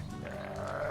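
A sheep gives one short, close bleat near a chicken house, a steady, wavering call that fills the whole second-long moment with no speech.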